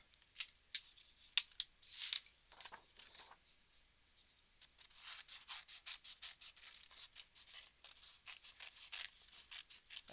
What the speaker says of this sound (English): let's go ahead and grab the scissors.